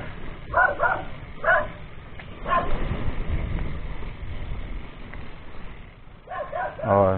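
A dog near a house along a rural hillside road barks a few times, sharp yips and woofs in short bursts spread through the clip, heard over steady wind and rumbling vehicle noise on a ride.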